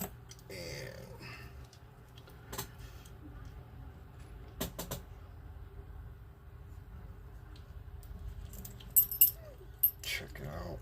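An old 1912 Segal padlock's keys jangle faintly in a quiet room, with scattered small metallic clicks and a brief, brighter rattle near the end.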